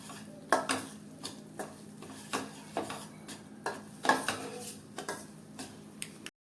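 Wheat flour is stirred and roasted in ghee over a medium-slow flame, with a steady series of soft scraping and clinking strokes of a spoon against the pan under a faint background hum.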